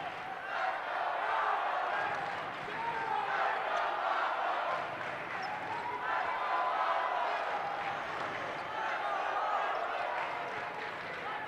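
A crowd at a 2012 high school basketball game between BBC Wildwood and Wildwood Catholic gives off a steady, loud roar of cheering and shouting that lasts the whole time.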